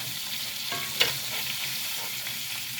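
Tequila lime chicken cooking in a pan gives off a continuous even sizzle, close up, with one brief clack of a utensil near the middle and no voices.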